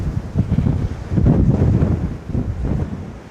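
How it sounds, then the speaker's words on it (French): Heavy wind buffets the microphone continuously, a loud low roar that swells and dips in gusts. "ce vent me saoule"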